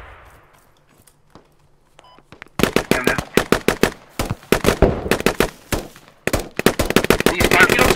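Rapid bursts of rifle gunfire in the Squad video game, loud and close, firing in uneven volleys and clusters after a quiet start.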